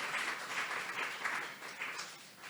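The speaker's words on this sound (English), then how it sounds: "So give them a round of applause for their support of this effort." Audience at a fine art salon talk at the DuSable Black History Museum gives a soft round of applause, steady patter of clapping heard at a distance and fading slightly toward the end.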